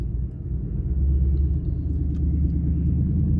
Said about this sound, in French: Donc on se retrouve à l'intérieur de la Ford Mustang pour un essai sur la route.